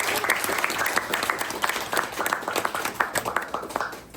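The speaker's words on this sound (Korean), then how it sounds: "큰 박수로 모셔주세요." An audience at a small book talk applauds to welcome an author, with many hands clapping in a lively, uneven patter close by that thins toward the end, and no speech.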